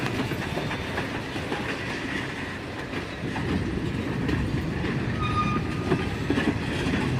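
A freight train rolls out of a rail yard past a road crossing, giving a continuous rumble with clickety-clack of wheels over joints and faint metallic squeals, steady and close throughout.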